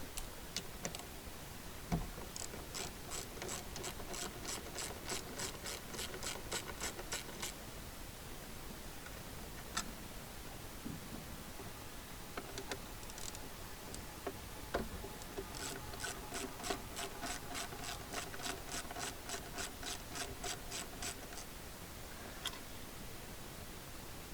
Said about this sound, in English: I'm gonna undo this little cover which is held in by these 3 10mm screws